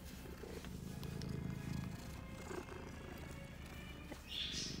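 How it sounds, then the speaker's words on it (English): A cat purrs softly and continuously up close, a low rhythmic rumble with faint rustling in the background. "I don't know if you can hear this purr."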